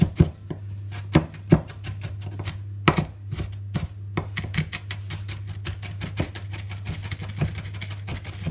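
Rapid knife strokes finely chopping onions on a kitchen board, sharp taps with short pauses that then settle into a fast steady run, close by over a constant low hum.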